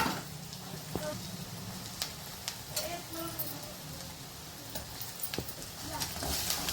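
Turmeric and ginger-garlic paste fry in oil with a soft, steady sizzle. Scattered sharp clicks and taps, like a spoon against the pan, break in now and then.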